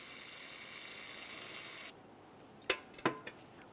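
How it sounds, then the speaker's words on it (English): Steady hissing spray of parts cleaner onto a Ford Explorer Sport Trac front brake caliper runs for about two seconds, then stops, followed by a few sharp metallic clicks and taps nearby. "We'll give this a little spray, let it sit for a second."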